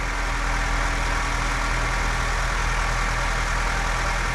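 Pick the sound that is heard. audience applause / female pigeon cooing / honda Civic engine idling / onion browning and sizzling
honda Civic engine idling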